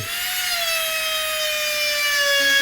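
Power carving tool cutting grooves into a wooden tulip, a steady high-pitched whine with a slowly falling tone, close and loud, no voice.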